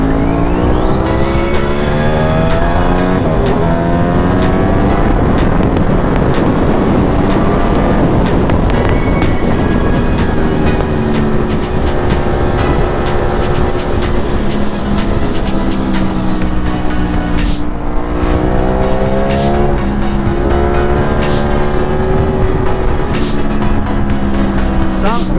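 A Ducati V4S motorcycle engine roaring loud and close, with sustained revving and shifting engine tones throughout, steady and unbroken for the full length.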